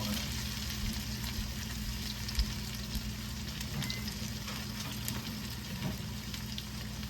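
Okra frying in a pan, stirred to get it crispy, gives a steady broadband sizzle that holds level throughout, with faint scattered pops and light clinks over it.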